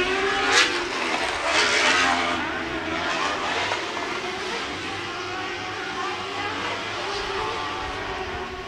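SR1 UTV race cars lapping the Glen Helen Raceway short course during a Great American Short Course round, engines roaring and droning continuously at a distance, swelling as they pass.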